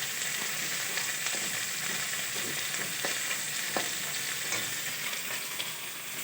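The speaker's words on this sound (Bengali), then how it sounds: "চলো এক এক করে সব ভেজে নিই" Food fries steadily in a pan, giving a continuous dense sizzle with small pops and crackles, close and even from start to finish, no voices.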